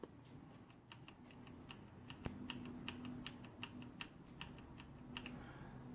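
Keys on a mechanical keyboard with Razer Orange or Topre switches are soft-pressed one after another in a steady, fairly even rhythm, quiet, close and crisp, with no talking.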